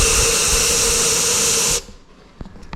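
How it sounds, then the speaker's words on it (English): Compressed air blown through a G30-770 turbo with no oil in it, giving a loud, steady rushing hiss for nearly two seconds that cuts off abruptly, followed by a few faint ticks. "I don't want to nail it with compressed air. I'm just like going a little bit at it because there's no oil in it."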